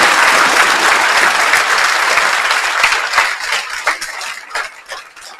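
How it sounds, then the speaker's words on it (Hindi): An audience at a ceremony welcoming successful exam candidates bursts into loud, dense applause that thins into scattered individual claps as it fades out toward the end. "तो इसलिए एक बार वापस से जो है वो ताली बजाएं।"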